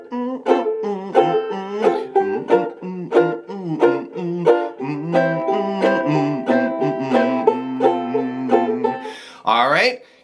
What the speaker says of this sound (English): it gives you a nice little sort of a chuck sound like this